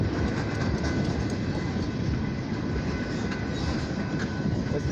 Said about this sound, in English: This is a military train.